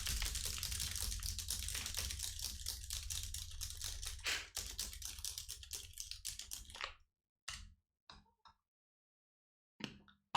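Rapid, dense clatter of typing on a computer keyboard while writing a long chat message, continuous and close for about seven seconds, then a few isolated keystroke bursts after a pause.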